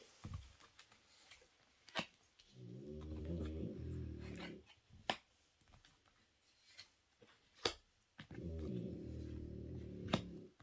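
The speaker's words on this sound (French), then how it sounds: "c'est mon chien qui ronfle" A dog snores in slow, deep rhythmic rumbles, two long drawn-out breaths separated by quieter pauses with soft clicks, close and fairly quiet.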